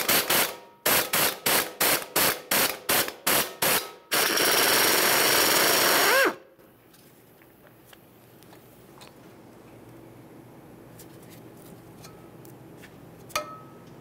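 An impact tool rattles in about eight rapid bursts followed by a sustained run while removing a 10 mm bolt from the front strut of a 2013-2020 Ford Fusion, close and loud, then quiet workshop ambience with a faint clink.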